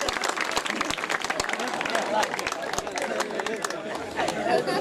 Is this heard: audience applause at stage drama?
yes